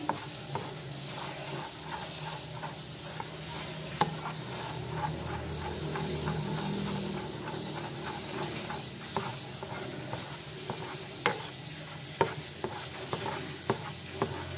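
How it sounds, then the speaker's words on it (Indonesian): Pandan kue cucur batter is stirred in a bowl, producing a soft, rhythmic wet swishing and tapping of utensil against bowl, close and quiet with occasional sharper clicks. "Kita campur lagi, kita aduk rata lagi."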